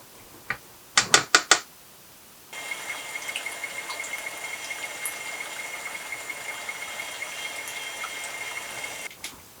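Carrot souffle mixture being whipped and blended with an electric mixer: a few sharp clicks, then a steady, fairly quiet mechanical whir that runs for several seconds before cutting off.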